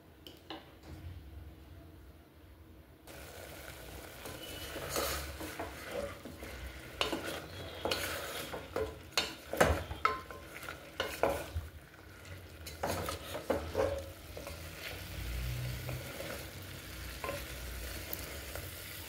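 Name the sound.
chicken frying and being stirred in pan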